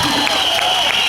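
A crowd claps and cheers during a Buddhist sermon, a dense continuous wash of applause at steady loudness through the whole moment.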